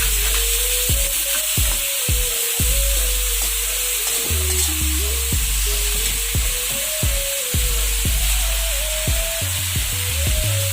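Milky chicken sizzling steadily in a frying pan on the stove, with repeated scraping stirs from the spoon against the pan, loud and close throughout.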